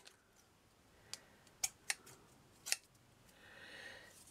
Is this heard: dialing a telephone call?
no